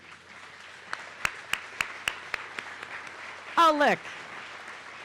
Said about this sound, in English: and we're going to clap for you